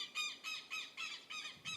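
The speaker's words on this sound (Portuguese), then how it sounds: "Uma pausa para o passarinho." A small bird chirps close by in a quick, repeated series of about six sharp squawking calls at an even rhythm, with no talking.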